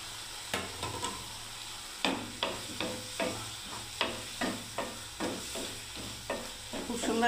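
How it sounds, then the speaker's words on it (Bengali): Pieces of pointed gourd sautéing in a pan for a simple potol sabzi, a low sizzle broken by a regular run of sharp spatula scrapes and taps, close and alone with no voices. "আমি পটলগুলোকে দিয়ে দিচ্ছি বন্ধুরা। এর মধ্যে আমি কষিয়ে নিচ্ছি এবারে।"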